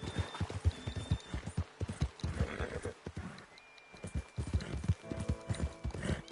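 Horse hooves clip-clopping on the ground in the video game Red Dead Redemption 2, a quick steady trot of close, even beats with a brief pause midway and a faint whinny.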